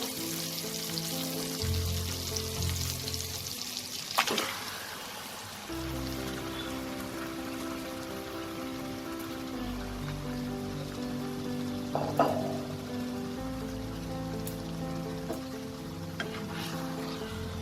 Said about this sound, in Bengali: এবার আমি ম্যারিনেট করা চিকেনটা এতে দিয়ে দেবো।